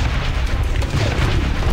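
An explosion in the zombie survival video game Last Day on Earth produces a loud, sustained low boom with rumbling, dense energy throughout, heard up close without speech over it.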